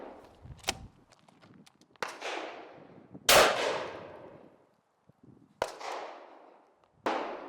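A Stoeger Double Defense double-barrel shotgun fires double-aught buckshot at seven yards: five sharp, separate blasts spaced a second or more apart, each ringing out and decaying into quiet outdoor air.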